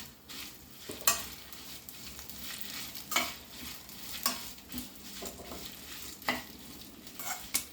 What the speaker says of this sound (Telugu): కరివేపాకు బదులు నేను మూలగా వేస్తున్నాను